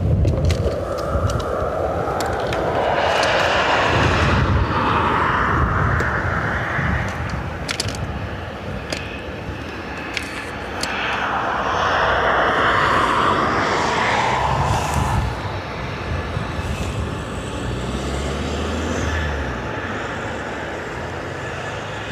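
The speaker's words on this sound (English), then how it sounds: "Plane is over Bray at the minute." Near Dublin Airport, a Royal Australian Air Force Boeing 737 MAX on approach to runway 28 left produces a broad, steady roar that swells and fades over about twenty seconds, with wind-like rumble and no talk.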